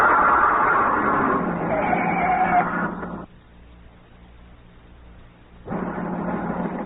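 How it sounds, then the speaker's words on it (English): A car in a radio drama has a front tire blow out and swerves off the road down an embankment: a loud, sustained rumbling roar runs for about three seconds, drops to near silence, then the roar returns. "It wasn't a shot. A front tire had blown out."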